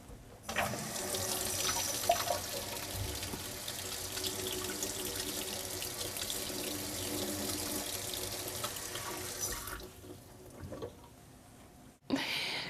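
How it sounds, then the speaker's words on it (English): Water runs from a tap over a cookie in a steady, splashing stream for about ten seconds, then shuts off abruptly. "Run your cookie underwater for 10 seconds."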